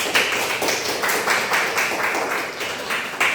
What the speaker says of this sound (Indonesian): Oke, beri aplaus untuk Neza.